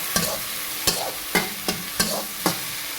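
Bagoong isda sautéing in a pan, a steady sizzle broken by six regular, sharp scraping strokes of a spatula, close and alone without any talk.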